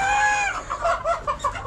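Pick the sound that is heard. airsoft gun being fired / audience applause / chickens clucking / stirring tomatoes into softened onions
chickens clucking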